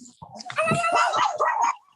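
A dog barks in short repeated bursts close by, loud and harmonic, lasting about a second and a half over quiet room background.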